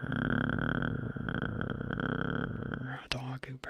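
A close, whispered voice imitates a cat's purr as a steady, breathy rumble that continues for several seconds before breaking into a few short bursts near the end.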